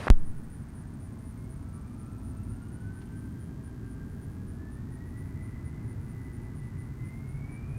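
A jet airliner taking off at Nashville International Airport, heard from a distance as a steady low rumble with a slowly rising engine whine under faint radio chatter.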